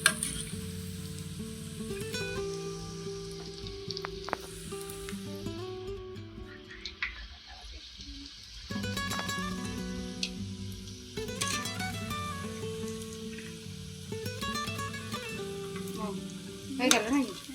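Meat frying in a pan over a gas flame turned low, a steady soft sizzle running throughout with occasional clinks of a utensil and faint background voices now and then.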